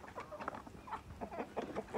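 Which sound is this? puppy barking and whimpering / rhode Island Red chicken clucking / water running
rhode Island Red chicken clucking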